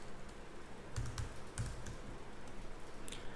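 Typing on a computer keyboard comes as a quick, irregular patter of light key clicks with a couple of heavier taps, close and quiet, with no talking.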